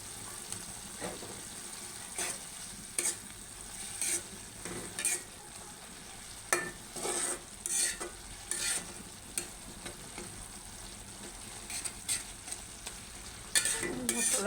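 Turmeric and chili spice paste fries in a pan for a tomato chicken curry, a continuous low sizzle broken by repeated close scraping stirs, some sharp and bright, with no speech.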